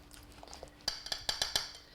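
Frozen raspberries mashed together in a bowl, with a run of sharp utensil clinks against the dish, several evenly spaced strikes close by after a quieter, faint start.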